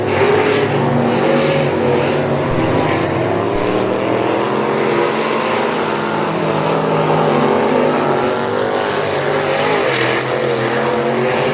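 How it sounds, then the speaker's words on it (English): Dirt track race cars roar around Southern Raceway, a steady, dense engine drone from several cars at a distance, continuous and fairly loud throughout. "here comes Patrick Hawkins out of turn 4"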